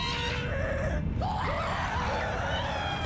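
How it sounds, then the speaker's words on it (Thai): A grinder in the Minecraft Engineer's Life modpack grinds netherrack, giving off eerie, wavering screams that rise and fall over a steady mechanical hum. "มาที่เครื่องบดเลยแล้วก็เอาเนเธอร์แร็กค่ะไปบดเลย"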